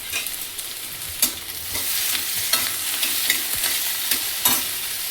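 Tomatoes being sautéed with fenugreek leaves in a home kitchen pan give off a steady sizzle, with occasional sharp scrapes and clinks as a spatula stirs through the mix.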